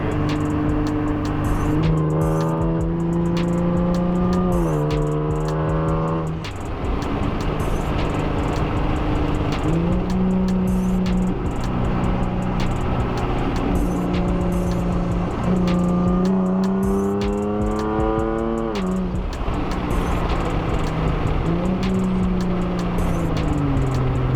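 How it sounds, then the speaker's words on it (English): A powerful Dodge Charger R/T muscle car engine revs hard several times, pitch climbing and dropping in repeated surges, loud and close with a rough, throaty rumble. "He revved it up. It sounded like it had 2-step in it."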